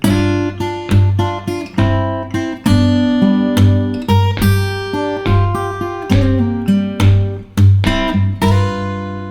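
Acoustic guitar plays Delta blues licks over a steady thumped bass line, with bright single-note phrases and bends riding above an even, pulsing low-string rhythm, loud and close with no voices.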